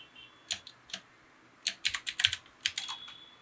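Keystrokes on a computer keyboard come in irregular bursts, with isolated taps early on and a quicker flurry of clicks later. The typing is close and fairly crisp, with no voice over it.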